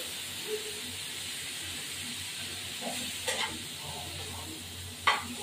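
Rui fish curry spices, turmeric powder and whole chillies frying in hot oil, a low steady hiss and sizzle with a few brief louder crackles and clinks toward the end, close and without talk.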